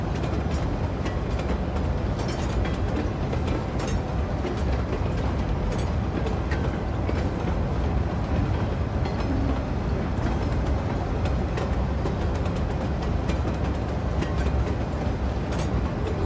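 Trains in Cities Skylines 2 run along freshly laid tracks as a dense, continuous rumble and clatter, steady and moderately loud throughout with no speech.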